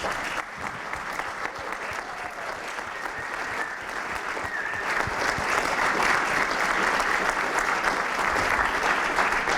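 Sustained audience applause at a 2016 elevator pitch competition at Champlain College: dense, even clapping from a large crowd that continues for nearly ten seconds and grows slightly louder toward the end.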